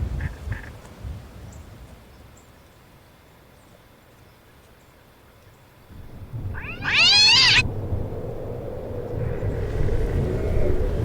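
A cartoonish cat meow in the fantasy game Echoes of the Fey, one short bright rising call that stands out loudly over a low ambient rumble of the woodland scene.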